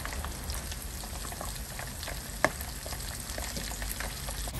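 Chicken feet fry in hot oil over moderate heat, a steady, faint crackling sizzle with scattered pops and one sharper snap, continuous and free of speech.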